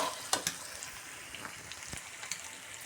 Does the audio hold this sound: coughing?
no